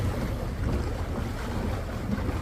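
A boat moves through deep flood water in Parañaque City, Manila, giving a continuous rushing wash of water and motor noise mixed with heavy wind buffeting on the microphone.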